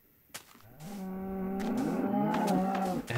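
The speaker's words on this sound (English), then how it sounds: "There's some cows over there." Cows in the Minecraft video game moo, with one long, low, drawn-out call swelling and holding steady. A sharp click comes near the start, and the call is clear and alone with no talk.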